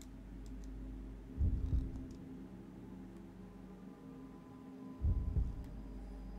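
A slow, heavy heartbeat sound effect in the horror video game Fatal Frame 3 thuds twice, each beat a deep double pulse, over a steady low ambient hum.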